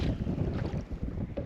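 Strong wind on Liepāja Lake buffets the microphone with a low, rumbling roar in uneven gusts, close and loud, and no talking.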